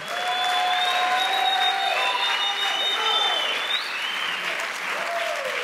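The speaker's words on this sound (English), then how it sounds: "clap your hands and give God praise" A church congregation claps their hands in praise during a sermon, steady sustained applause with a faint tonal whine or sustained note running beneath it throughout.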